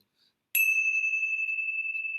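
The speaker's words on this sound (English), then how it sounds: "let's just close our time together with the ringing of the bells" A single meditation bell is struck once after a moment of silence, a bright clear ding that rings on with a long steady sustain, close and alone.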